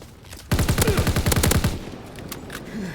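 Rapid automatic gun fire in Call of Duty WW2 on Xbox One X, a loud close burst of evenly spaced shots lasting over a second, then fading echoes and quieter distant game sounds.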